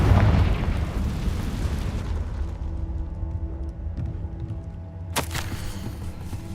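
A Confringo explosion spell going off in Hogwarts Legacy, a loud booming blast that rolls into a long decaying rumble, with a sharp crackling burst near the end.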